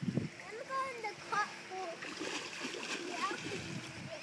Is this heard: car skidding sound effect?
no